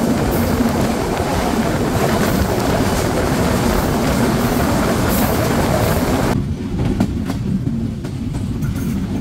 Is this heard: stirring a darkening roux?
no